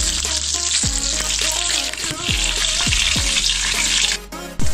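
Mushrooms fry in a pan of butter and olive oil, a loud constant sizzle with repeated scraping knocks of stirring every second or so, alone without voices.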